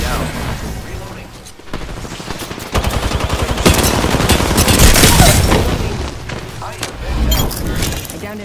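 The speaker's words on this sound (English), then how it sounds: "Opening fire on the enemy." Rapid automatic gunfire rattles loudly in a video game shootout, with dense bursts of shots building into a heavy barrage in the middle, while voices speak over the fight.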